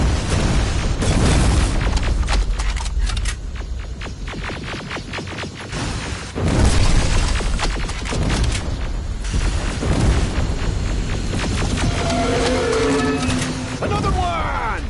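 Rocket explosions in the shooter game Terminator Resistance: heavy booming blasts and crackling bursts roll in loud, repeated waves, with gunfire rattling between them and a voice shouting over the din.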